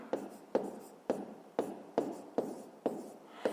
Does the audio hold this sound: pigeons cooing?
no